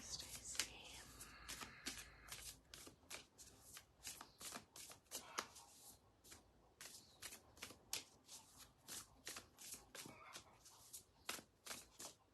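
Tarot cards are shuffled by hand in fast riffling bursts, crisp snapping flutters repeating close to the listener, with quiet gaps between rounds and faint background sound.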